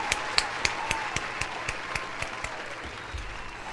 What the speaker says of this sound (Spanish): Aplausos, bien.